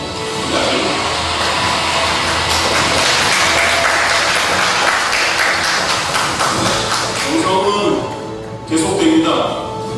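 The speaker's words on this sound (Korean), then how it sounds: "여러분 옆에 있는 같은 수련 동기들에게 모두 감사의 박수" A church congregation gives a sustained round of thankful applause, dense and loud for most of the stretch, with talk and a few thumps near the end.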